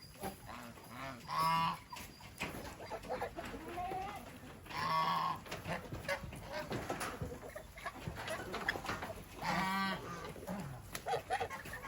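Several loud crowing calls from a chicken nearby, spaced a few seconds apart, over a busy farmyard background with other animal sounds.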